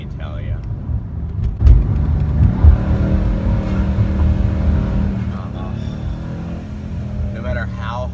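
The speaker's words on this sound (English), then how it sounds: "No matter how hard I try to keep my neck forward when I give this car a little power" A white Mercedes C63 AMG accelerates, a deep engine roar that surges loudly twice near the start and then holds a steady drone from inside the cabin, with someone talking over it.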